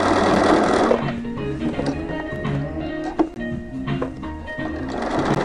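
A sewing machine quilting fabric runs steadily and loudly close by, its needle chattering in a fast, even rhythm throughout.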